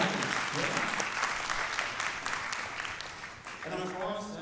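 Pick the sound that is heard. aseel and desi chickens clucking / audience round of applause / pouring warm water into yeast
audience round of applause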